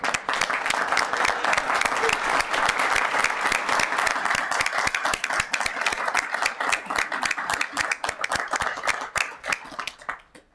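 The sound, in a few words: audience applause at town council meeting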